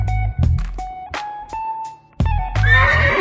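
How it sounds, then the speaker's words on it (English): A horse gives a short, high whinny that rises and wavers near the end, after a few brief thumps and clops. The sound is close and clear, with no voices. "horse."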